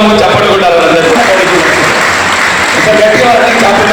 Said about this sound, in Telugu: ఒకసారి గట్టిగా అందరం కూడా వాళ్ళ కోసం చప్పట్లు కొట్టాలి.